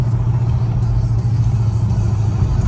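A 2018 Chrysler 300S with a modified Hemi 5.7L V8 idles in regular drive, holding a steady, loud low rumble with a slight lope and no revving.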